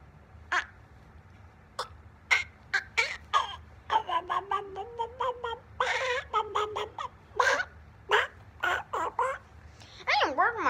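A voice imitates a hen's clucking in a run of short, choppy bursts and squawks, close and fairly loud over a low steady hum.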